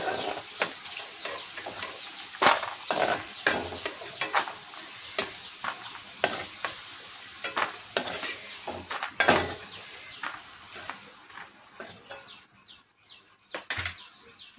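Fried potatoes are scooped out of hot oil, with sizzling and bubbling under a series of sharp scraping and clinking strikes from a utensil against the pan. The sizzle fades toward the end.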